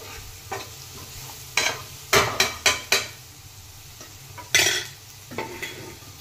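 Masala and turmeric being sautéed in oil in a home kitchen pan, with a soft frying hiss under a series of sharp spoon scrapes and clanks against the pan, close and uneven in rhythm, with no talking.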